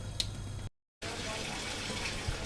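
Steady water flow running through the cleaned solenoid valve of a fully automatic LG washing machine, a constant hiss interrupted by a brief cut of silence, close and loud with no speech.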